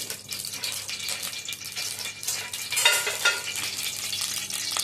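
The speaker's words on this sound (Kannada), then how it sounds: "ನಾನು ಆವಾಗಲೇ ಪನ್ನೀರನ್ನು ಮ್ಯಾರಿನೇಟ್ ಮಾಡಿ ಇಟ್ಟಿದ್ದೀನಿ. ಅದನ್ನೀಗ ಇದರಲ್ಲಿ ಹಾಕಿ ಫ್ರೈ ಮಾಡಬೇಕು." Marinated paneer sizzles and crackles in a hot pan for a paneer gravy, a steady close frying hiss broken by stirring scrapes and light rattles, with no talk.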